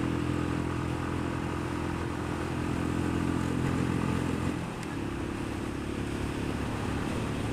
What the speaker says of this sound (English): that was the rev limiter